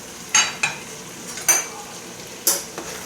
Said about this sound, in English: Mix it up a little bit.